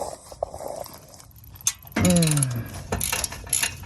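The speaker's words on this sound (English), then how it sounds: "We got the 9/16 ratchet, 9/16 wrench." A 9/16 ratchet works loose an exhaust header bolt on a 1971 Road Runner, giving a few close, sharp metallic clicks and a sudden creaking squeal as the bolt breaks free in a quiet garage.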